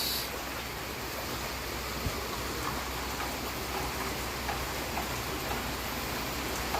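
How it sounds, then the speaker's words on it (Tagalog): Steady heavy rain from a typhoon in Iloilo hisses continuously, a dense wash of patter with occasional louder drops, fairly faint and even throughout, with no voices. "walang tigil yung ulan mga kadulas."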